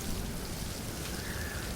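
Steady rain falling in the Stranded Deep survival game, a dense continuous hiss of drops with no breaks, moderately loud and without speech.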